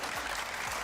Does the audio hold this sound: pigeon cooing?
no